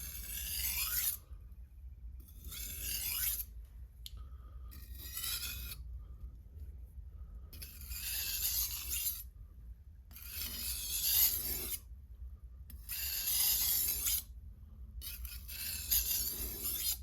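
A Wusthof kitchen knife is stroked across a 3000-grit whetstone in repeated bursts of rasping scrape, each pass lasting about a second with short pauses between, close and steady with no talk.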